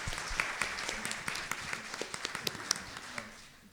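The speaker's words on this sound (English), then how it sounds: "Please give them another round of applause" An audience applauds at a literature event, giving a short burst of brisk clapping that stays moderately loud and close before it begins to thin out.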